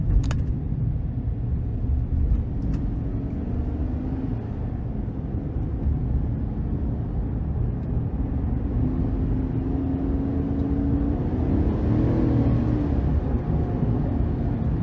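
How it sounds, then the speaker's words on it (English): A 2023 Chevrolet Silverado 1500 Work Truck with a 5.3 V8, shifted into low gear, produces a steady low engine drone and road rumble with a rising tone near the end, no voices. "I'm going to put into the low gear now and see how that acts."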